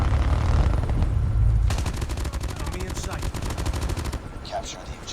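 Call of Duty Mobile domination match gunfire: a deep rumble gives way to long sustained machine-gun bursts, fast and loud, with a voice speaking faintly beneath the shooting.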